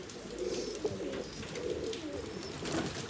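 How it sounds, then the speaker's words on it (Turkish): A colored pigeon cooing near a coop, soft repeated low coos close to the listener against a faint background hiss, with no speech. "Bu zaten renk kuşu."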